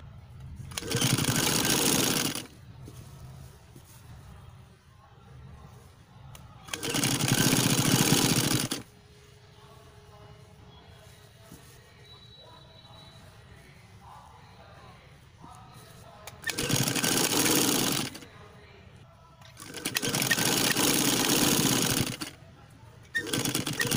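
Sewing machine stitching a petticoat, four loud sustained runs of rapid mechanical chatter separated by quieter pauses with faint background sounds.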